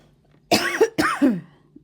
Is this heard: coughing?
yes